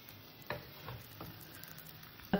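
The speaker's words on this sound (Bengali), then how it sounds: "লবণটাকে সুন্দর করে মিশিয়ে দিতে হবে।" Semolina with salt stirred in a pan, heard as a few soft, spaced scrapes and taps of a spoon over a faint background, ending in a louder knock.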